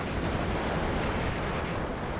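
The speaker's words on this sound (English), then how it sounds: "You get a little bit of fire support from the 37mm gun on this half-track." A half-track's 37mm gun in the Steel Division 2 wartime strategy game fires amid a dense, continuous rumble of battlefield blasts, loud and unbroken throughout, with no voices.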